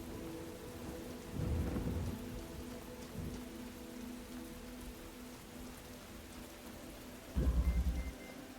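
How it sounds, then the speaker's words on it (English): Steady rain falling in the video game The Talos Principle: Reawakened, with two deep rolls of thunder rumbling through, one early and one near the end, no voices. "Very gray and rainy here"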